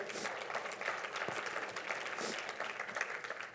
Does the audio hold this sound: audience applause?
yes